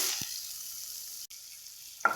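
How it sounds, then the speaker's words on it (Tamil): Chopped onion fries in hot oil with a steady sizzle throughout, a soft thump near the start and a brief clatter toward the end. "இப்போ இதில் ஒரு மீடியம் சைஸ் பெரிய வெங்காயம் பொடியை நறுக்கினது சேர்த்துக்கிறேன்"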